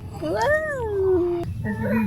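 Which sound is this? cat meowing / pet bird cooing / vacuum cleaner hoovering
cat meowing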